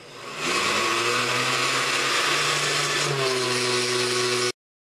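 A countertop blender runs on ascorbic acid mixed into distilled water, its motor starting up and holding a loud, steady whir that shifts pitch slightly partway through before cutting off abruptly.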